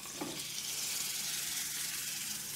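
A tablespoon of unsalted butter sizzles in a smoking hot pan, a faint, steady hiss with no talking.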